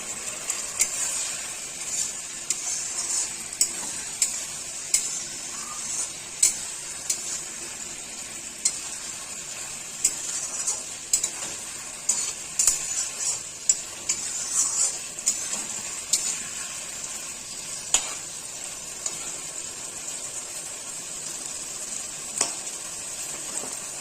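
Chopped tomatoes sizzle in hot oil and spices in a pan of catla fish curry with potatoes, with steady frying hiss and intermittent sharp clicks of a spoon stirring against the pot, no talking.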